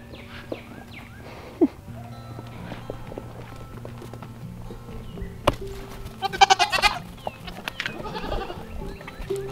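Baby goats and their mothers bleat at a farm refuge, several calls of varying pitch scattered over steady outdoor background, with footsteps and scuffling movement as the animals run about.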